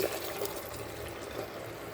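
Water poured into a pan of prawn curry with ground masala paste, a soft, steady liquid trickle close by, with no talk.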